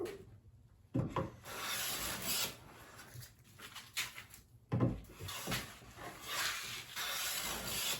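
A Veritas bevel-up jointer plane takes thin shavings from yellow pine in a series of close, soft rasping strokes with short pauses between passes, heard alone.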